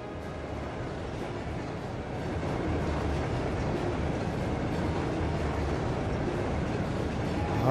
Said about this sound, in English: a freight train from Bereahard? Looks like it's carrying tanks